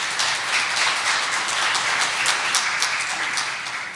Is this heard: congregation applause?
yes